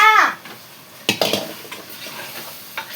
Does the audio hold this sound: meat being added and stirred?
yes